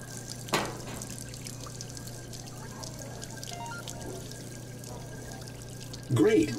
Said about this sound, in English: they all start with putting some water in the pot